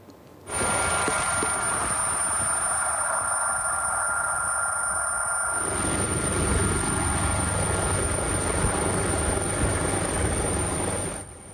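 A fire brigade Drago helicopter's rotor and engine roar steadily and loudly from start to end, with a high whine above the thudding drone.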